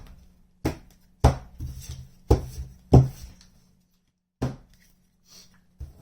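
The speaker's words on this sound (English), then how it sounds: "Let's start quick shuffling here real quick." A tarot card deck being quickly shuffled and split by hand, heard as a series of separate sharp riffling bursts with short pauses between them, close and clear against a quiet background.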